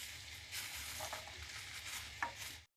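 Green peas tipped into a frying pan of vegetable navratan korma with butter, a steady close sizzle with stirring scrapes and one brief sharp clink near the end, no talk.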